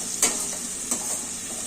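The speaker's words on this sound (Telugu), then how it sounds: "కొంచెం ఆకు అనేది కొంచెం రోస్ట్ అయ్యే వరకు వేయించుకోవాలి" Fenugreek leaves and garlic roast in a pan with a soft, even sizzle and two brief scraping stirs of a utensil, quiet and close, with no voices.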